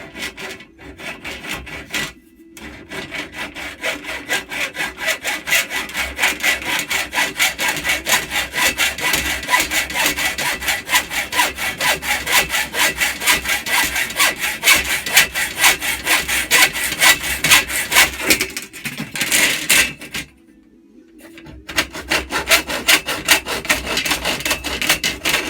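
A piece of metal, seemingly aluminium, is hand-sawn in a workshop with fast, steady rasping strokes, close and continuous, broken by two brief pauses.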